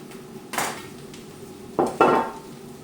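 A knife works through a cantaloupe on a board, with three distinct chopping knocks, one alone and two in quick succession, close and fairly crisp against a quiet room.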